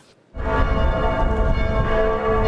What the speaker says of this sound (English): The bells of all Catholic churches across Germany rang out during his funeral